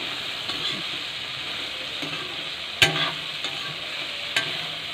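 Drumstick curry frying with turmeric, cumin and ginger-garlic paste makes a steady close sizzle broken by a few sharp spoon knocks against the pan.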